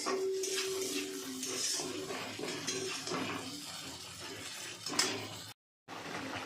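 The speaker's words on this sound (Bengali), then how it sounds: "মশলা ভালো করে কষিয়ে নিচ্ছে যেন কোনো কাঁচা গন্ধ না থাকে" A spatula scrapes and clatters against a pan as masala is stirred and sautéed for an egg curry. The steady metallic scraping runs close and continuous, with a brief silent break near the end.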